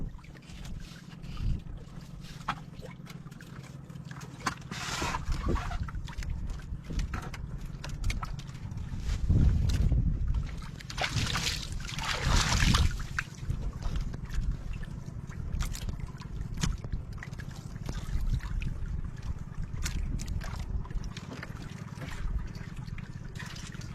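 A boat moving on open water draws nearer, its low engine rumble steady throughout with water splashing and trickling, swelling louder in bursts around the middle.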